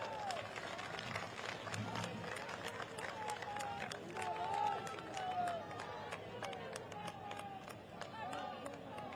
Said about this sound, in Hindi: एक बार सब लोग आप बहनों के लिए ताली बजा दीजिए